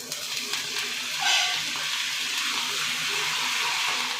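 Curry leaves and garlic crackle and sizzle in hot tempering oil for sambar in a home kitchen, a steady bright hiss throughout with no talk.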